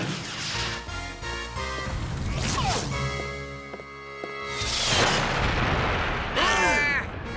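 A cartoon melted cheese missile launcher fires amid loud comic battle effects: booming blasts, a sustained tonal whine and swooshing, zapping bursts that fill the scene.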